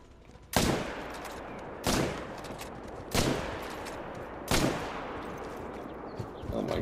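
Four sharp rifle shots from theHunter: Call of the Wild hunting game ring out one at a time at steady intervals of over a second, each with a decaying tail, fairly quiet.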